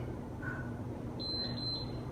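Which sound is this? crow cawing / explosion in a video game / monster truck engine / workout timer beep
workout timer beep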